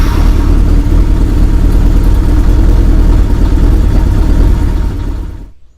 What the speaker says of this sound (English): I'm going to start the bike up now and run it for 2 or 3 minutes just to circulate the oil into the new filter.